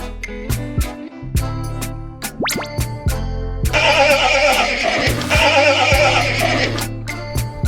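A horse whinnies loudly and repeatedly over a busy musical backing, its calls rising and falling through the clip.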